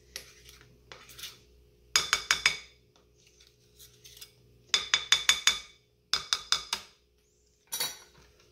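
A utensil clinks and scrapes against a bowl while stirring New York cheesecake batter, in quick bursts of sharp metallic taps separated by short pauses, close and fairly loud with no talk.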